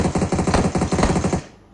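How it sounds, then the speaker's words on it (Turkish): Automatic gunfire in PUBG Mobile, a rapid, evenly spaced burst of loud close shots rattling for about a second and a half before cutting off abruptly. "Kim atış ediyor ya? Bize mi atış ediyor bu?"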